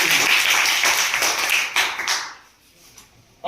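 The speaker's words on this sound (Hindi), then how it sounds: "एक बार इन टीम के बच्चों के लिए जोरदार ताली बजा दो।" A crowd at a children's science quiz competition show claps loudly for the quiz teams. The applause is a dense burst for about two seconds, then thins out and dies away into near quiet.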